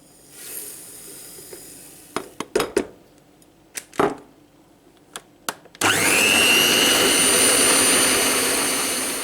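A few sharp clinks and taps come first, then an electric mixer starts up whipping three eggs with sugar for a blackberry cake batter, a loud, steady high-pitched whirring that continues to the end.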